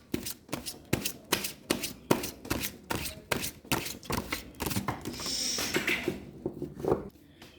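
Tarot cards are shuffled close by in a rapid run of crisp riffling flutters with short gaps between them, quiet and without speech.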